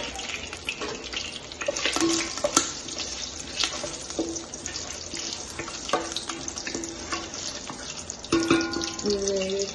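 Whole masala spices fry in hot oil in a kalai pan, giving a steady, close crackling sizzle. Occasional clinks of a utensil against the pan sound over it.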